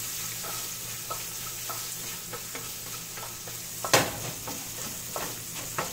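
Fenugreek powder is stirred into a fish curry frying in a pan, a steady sizzle under spoon scrapes that come every half second or so, with one louder clatter near the middle.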